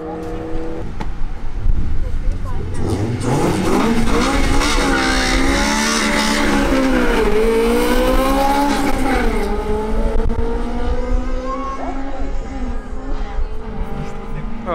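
1.8T Mk2 cars launching down a quarter-mile drag strip at Killarney, a loud, sustained engine roar that rises and falls through gear changes with revving and tire noise, voices in the background.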